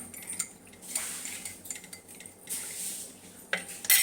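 A spoon stirs a tablespoon of honey into hot hibiscus tea, making a series of close metallic clinks and scrapes against the cup in irregular bursts.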